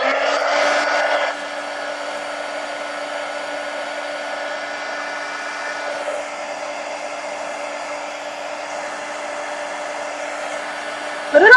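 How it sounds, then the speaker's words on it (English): A heat gun blows steadily for about eleven seconds while drying a decorated magazine-style craft journal page, its loud whirring hiss constant and close, louder at the start and briefly again at the very end. "now I'm going to dry this"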